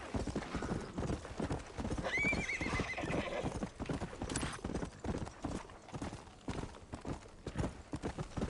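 A galloping horse in the western video game Red Dead Redemption pounds out rapid, loud hoofbeats throughout, with a clear neigh partway through and only faint talk.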